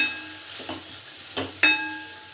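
Pavta beans frying in oil in a pan, a soft continuous sizzle broken by a few sharp stirring scrapes, close by and with no talk.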